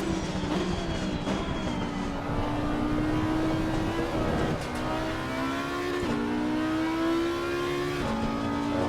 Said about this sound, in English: I think they always have this metallic sound to it that I don't like